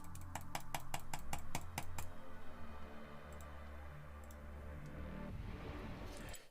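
A computer mouse clicking rapidly, a quick burst of about ten sharp, evenly spaced clicks at the start, then scattered faint ticks over a low background hum.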